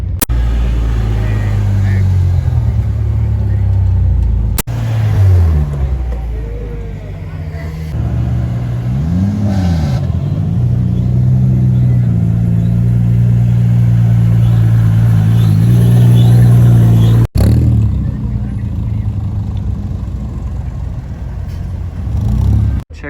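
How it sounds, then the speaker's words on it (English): A Mazda at a car meet blips its engine in a rising and falling rev over a loud, steady low idle rumble nearby, with voices talking underneath. "This guy just revved, so hopefully he does a pull or something."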